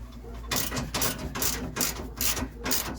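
A ratchet with a deep socket loosens the spare tire bolts on a Sprinter van cab chassis, giving four bursts of fast ratcheting clicks in a steady rhythm, close and moderately loud.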